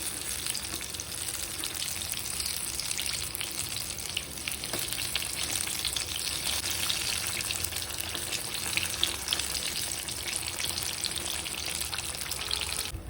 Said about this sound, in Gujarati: તો આપણે તેને પલટાવીને બીજી બાજુથી પણ તળી લઈશું